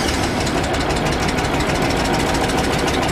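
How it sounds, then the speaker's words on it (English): The engine of a Steam Way PowerMatic Legacy 2100 truckmount runs steadily at idle, loud and close, with a dense mechanical drone and slight knocking vibration and no pauses. "We got oil pressure, we got the engine running."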